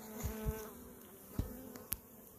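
Honey bees buzz faintly inside an open hive during a pest-management inspection, a low steady drone with a few soft thumps and taps from handling the frames.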